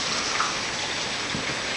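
Light rain sprinkles down outdoors in Texas as a steady, even hiss of falling drops with no talking.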